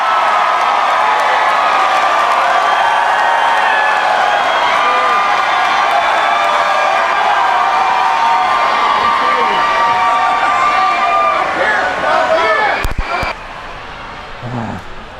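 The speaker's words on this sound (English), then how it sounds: "Pretty crazy crowd." A large concert crowd at an electronic dance show cheers and shouts continuously, a dense roar of voices with whoops throughout, ending with a brief burst of noise.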